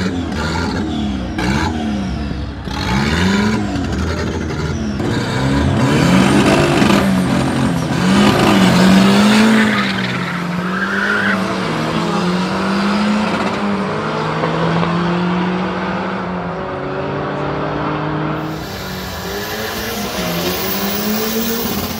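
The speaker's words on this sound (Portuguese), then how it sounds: "apareceu o Chevette, o gol já aqueceu e a gente só filmou a corrida" A Chevrolet Chevette and a Volkswagen Gol launch side by side in a street drag race, engines revving hard and screaming through gear changes, loud and close before fading into the distance.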